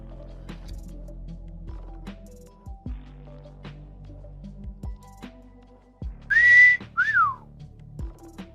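A person whistles two short notes, the second sliding down in pitch, heard clearly over soft background clicks and taps.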